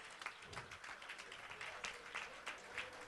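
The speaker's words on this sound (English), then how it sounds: "Congratulations with a big round of applause." Steady applause from a conference audience, continuous dense clapping throughout at moderate level.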